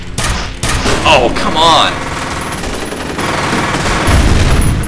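Rapid gunfire from a weapon in the shooter game F.E.A.R., bursts of shots rattling steadily for several seconds, loud and close, with a man briefly exclaiming over the top.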